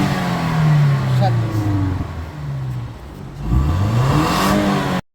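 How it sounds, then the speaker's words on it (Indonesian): A Toyota Innova Reborn petrol engine runs and revs nearby, its engine hum rising and falling in pitch, with a person talking over it. "Suara mesin super halus,"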